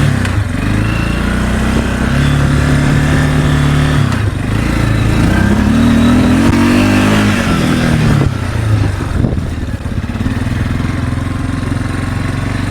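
Big Bear 350 four-wheeler from the 1980s idling high in neutral, a loud, close, steady engine drone with a slight rise and fall in pitch partway through.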